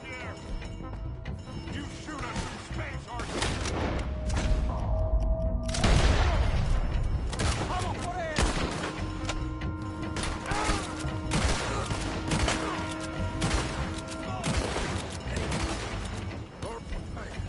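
Gunfire in a video game shootout, with rapid bursts of shots, booms and weapon mechanism clatter layered over game music and shouted character dialogue, loud and continuous.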